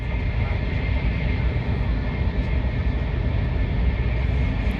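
A steady, loud rumble and roar fills the cabin of a Taiwan high-speed rail train at night, a constant dense drone with no breaks.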